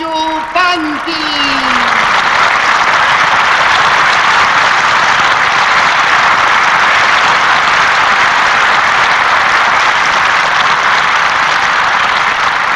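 Audience applause fills the Plaza Nacional del Folclore in Argentina, a dense, steady roar of many hands clapping that carries on loudly after a voice briefly speaks at the start.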